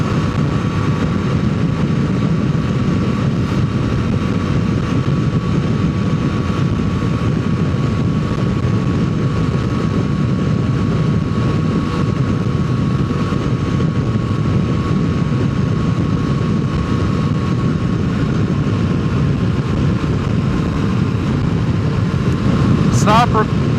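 A 650 motorcycle engine drones steadily while riding, a constant loud hum blended with rushing wind noise that continues without a break.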